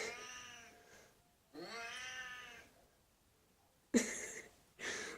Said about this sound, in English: play cat sounds